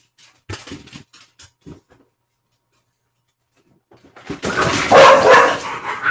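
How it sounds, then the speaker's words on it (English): Dogs bark nearby, with a few short, sharp yips early, a pause, then a louder stretch of overlapping barking. "Oh, those dogs!"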